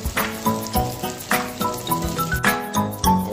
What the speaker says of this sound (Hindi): सभी सोया चाप को फ्राई कर लेंगे।